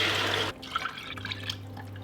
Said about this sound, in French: Donc on va venir mettre de l'eau